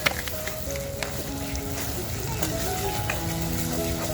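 Masala with melted tomato frying on a wood-fired chulha stove while making chicken vade, giving a steady close sizzle and crackle beneath someone talking.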